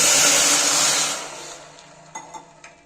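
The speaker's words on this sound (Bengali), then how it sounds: "এইবার আমি এর মধ্যে জল দিয়ে দিচ্ছি।" Water hits melted caramelized sugar in a hot pan for tea, bursting into a loud rushing hiss that fades over a couple of seconds, followed by a few light clinks.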